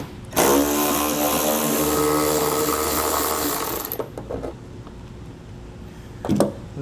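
A power driver with an 8mm socket whirs steadily at close range for several seconds while backing out a taillight screw, then stops, followed by small handling clicks and a brief second burst.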